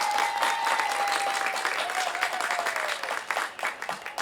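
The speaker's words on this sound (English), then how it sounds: "You can clap." Audience applause at a balloon festival award presentation, steady crowd clapping that holds strong, then grows more uneven and scattered toward the end, with a faint tone beneath.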